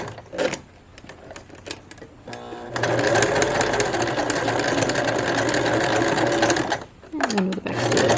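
Sewing machine back stitching the horsehair hem of a formal dress, a loud continuous rapid hum and clatter for several seconds, with short stops and handling noises before and after.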